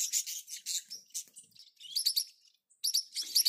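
Small pet bird loose outside its cage, giving quick bright chirps and tweets in short bursts with brief pauses, close and fairly soft, no voices.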